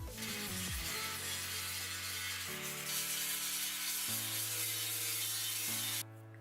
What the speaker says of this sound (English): So now I'm going to sand it today